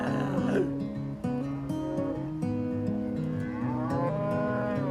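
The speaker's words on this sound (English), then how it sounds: "then Tim and Ladd, we split the cows and calves" A herd of cattle, cows and calves being split apart, moo in a steady overlapping chorus of long, loud low calls, one after another with little pause, close by and without talk.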